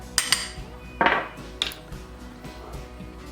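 Parmesan and chili powder mixed together in a bowl, giving a few sharp clinks and scrapes of a utensil against the dish, close and sparse, then quieter taps.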